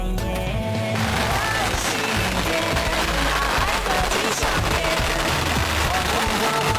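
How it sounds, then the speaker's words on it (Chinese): A long string of firecrackers goes off in a rural northeast Chinese village for Little New Year, breaking into a dense, rapid crackle of loud pops that continues without pause after a brief quieter start. "放鞭炮喽！"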